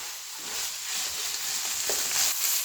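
Lean minced meat (keema) is dry-roasted in a pan with no added fat, producing a steady close sizzle and crackle with faint stirring scrapes. There is no talking.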